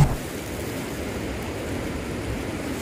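Strong wind blows on the Gunung Salak mountain trail via Cimelati, a continuous loud rushing buffet with a brief thump at the start, no voices.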